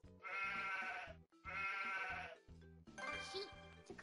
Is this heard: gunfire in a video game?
no